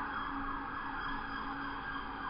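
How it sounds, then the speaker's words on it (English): An emergency vehicle siren wailing steadily at a distance, faint and continuous under low road noise. "every time you hear a siren"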